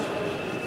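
An H0 scale model train rolls across the points of a modular exhibition layout, giving a steady, close, continuous rolling hum with no talking.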